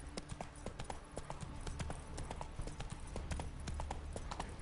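Roach, the horse in The Witcher 3, trots with crisp, rhythmic clip-clop hoofbeats that are close and steady throughout.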